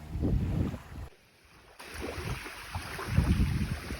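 Water and small waves lap at a reservoir shore, with gusty wind buffeting the microphone and a brief dip to near quiet before the washing resumes.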